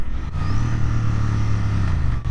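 A Royal Enfield Bear 650 motorcycle's twin engine drones loud and close while downshifting on the road, a steady low rumble with a rising pitch and a short dip in engine note near the start and end.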